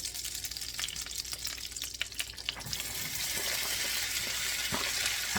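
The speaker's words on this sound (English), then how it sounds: "Now I'm going to add my corn to the skillet." Corn cut from six ears, tipped into a hot skillet for Southern fried corn: a few clattering drops give way to a loud, steady sizzle of frying, close up with no voices.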